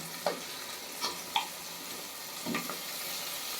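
A ground paste of ginger, garlic and onion fries in a pan for tomato rice, giving a continuous close sizzle broken by a few sharp spatula clinks and stirs.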